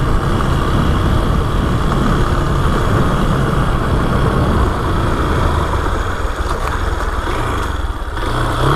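A Honda XRE 190 motorcycle engine idles steadily and loud up close, a constant low rumble with no break throughout.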